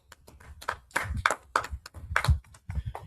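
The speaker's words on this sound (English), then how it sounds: "All right, let's clap it up." An audience at a brotherhood class claps in uneven, scattered bursts, several sharp hand claps close by with gaps between them, lasting a few seconds with no talk over it.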